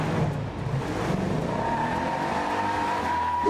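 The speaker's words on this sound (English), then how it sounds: "Number 4, 1970 Dodge Challenger RT 426 Hemi." A 1970 Dodge Challenger R/T with a 426 Hemi V8 drives at speed, its engine a loud, steady roar with a rising tone and possible tire squeal, continuous throughout and with no voices.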